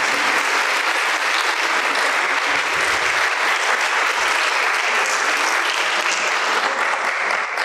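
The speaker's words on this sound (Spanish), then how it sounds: "Despedimos con otro fuerte aplauso a la maestra." Sustained, dense audience applause at a university lecture on oral trials in Mexico. It stays steady and loud from start to finish, with no voices over it.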